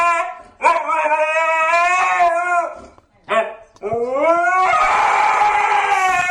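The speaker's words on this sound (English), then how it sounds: "He posted a screaming husky." A husky screams and howls up close in long, loud, quavering cries, pausing briefly between calls before one last drawn-out, strained wail.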